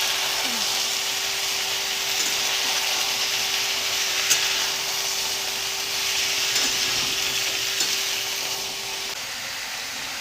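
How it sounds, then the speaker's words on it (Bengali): Onions and mixed vegetables frying in a pan give a continuous broadband hiss over a faint steady hum, with the occasional scrape of stirring. "এটাকে আমি ভালো করে ভাজা ভাজা করে নেব।"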